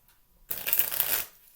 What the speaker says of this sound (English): And so let's shuffle up.